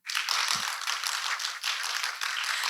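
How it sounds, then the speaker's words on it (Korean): Steady applause from an audience at a conference opening ceremony, a dense, even patter of many hands clapping at moderate distance with no talk over it. "큰 박수 부탁드립니다."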